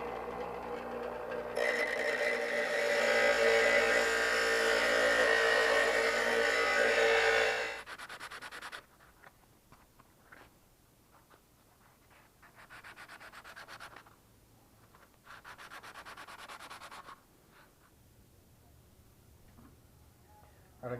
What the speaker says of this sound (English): I'm going to go ahead and put it on the grinder and grind those edges